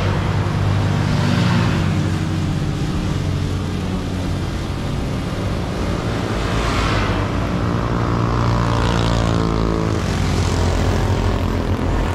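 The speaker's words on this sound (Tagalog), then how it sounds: "Ayan o, palipad siya ng drone." A steady, droning propeller-like whir of a drone flying overhead at an Independence Day gathering holds loudly throughout, with faint traffic rumble beneath and no talk.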